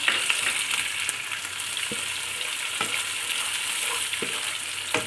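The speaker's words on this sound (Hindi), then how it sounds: "अब हम इसमें टमाटर डाल देंगे।" Tomato dropped into garlic and ginger frying in a pan gives a steady, close sizzle with a few sharp crackles and stirring scrapes, with no voices over it.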